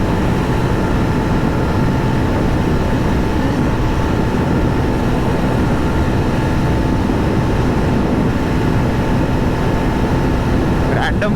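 A 2024 Yezdi Roadster motorcycle pulls at full throttle in sixth gear on the open road, a constant loud roar of engine and rushing wind filling the whole stretch without a break.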